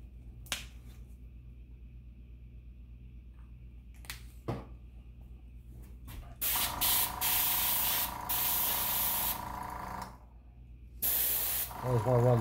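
An airbrush spraying Createx paint gives steady bursts of broadband hiss, several seconds long with short pauses between them, close to the listener.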